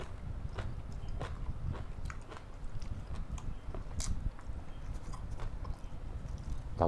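Crunchy beef liver chewed close up, with a steady run of crisp bites and crunches in an irregular rhythm, loud against a constant low background hum, no talking.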